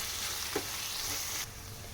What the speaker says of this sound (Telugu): ధనియా పౌడర్ కొత్తిమీర వేసిన తర్వాత ఇలా బాగా ఫ్రై చేసిన తర్వాత స్టవ్ ఆపేసేయాలి